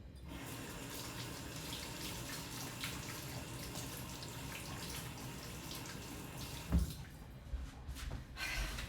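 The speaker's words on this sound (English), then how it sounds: "So I'm gonna wash my hands again." Tap water runs steadily into a sink while hands are washed in a kitchen, a constant close splashing stream that briefly surges with a couple of louder splashes near the end.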